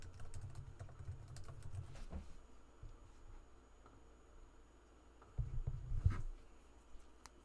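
Computer keyboard typing while a form is filled out, bursts of keystrokes at the start and again near the end with a quieter stretch between, close and fairly soft, no voices.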